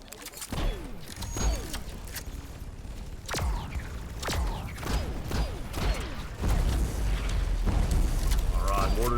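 Mortar shots booming in the video game Taur, repeated heavy blasts and mechanical thuds at irregular intervals amid dense game noise, with a person talking over them.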